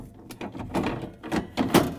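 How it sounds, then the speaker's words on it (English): Plastic refrigerator drawers slid into place in a Whirlpool fridge during an evaporator fan motor repair, a few short scraping slides and soft knocks, close by. "I'm going to install the drawers. I'm going to place it in."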